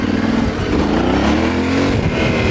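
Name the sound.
Yamaha Tenere 700 motorcycle riding off-road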